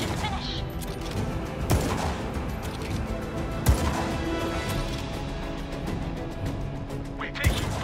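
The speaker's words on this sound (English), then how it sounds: "We're taking fire!" Gunfire in the video game Just Cause 3: scattered sharp shots and crashes over a steady roar of action noise, with a few louder bangs spaced out across the scene.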